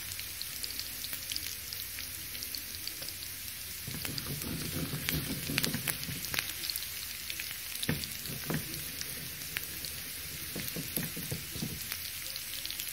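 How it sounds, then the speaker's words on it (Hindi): Garlic and onions frying together in a pan of oil, a soft continuous sizzle with crackling pops and intermittent stirring. "और ये थोड़ा सा लहसुन डाल दूंगी।"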